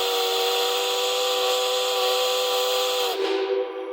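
A loud, sustained 6-inch three-chime Crosby steam whistle blows a rich chord of several tones, holding steady for about three seconds before cutting off into a fading hiss.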